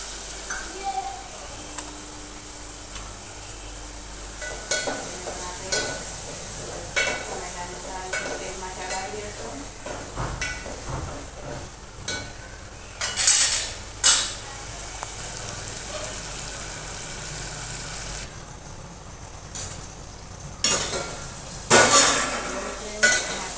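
Tomatoes and green chillies frying in a pan for a chana dal sabji, with steady sizzling and repeated scraping stirs of a spoon against the pan and occasional metal clinks.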